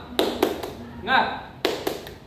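A group in a classroom counselling session performs a rhythmic spirit clap: sharp, close claps in a short pattern, then a voice in the middle, then more claps in the same rhythm.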